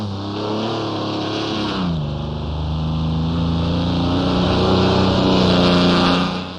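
A 1960s Mercedes race transporter in the Assetto Corsa racing game pulls away from a standing start on the Nordschleife, its loud engine revving and climbing steadily in pitch with no talk.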